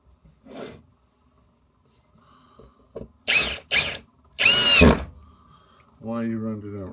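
A cordless drill drives 40x30 wood screws in short bursts, with two or three whirring runs in the middle and a brief motor whine at the end, quiet movement and handling between them.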